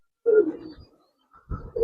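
Giribaz and colored pigeons give a short close coo, then fall briefly silent before a second coo begins, loud and clear against a quiet background.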